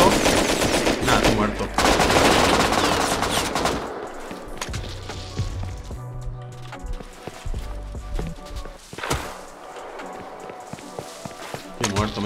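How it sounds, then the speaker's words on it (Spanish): Bursts of M16 and machine gun fire from the Rust video game rattle loudly at first, then continue as scattered shots and footsteps, with someone talking over them throughout. "Dispara también el M16."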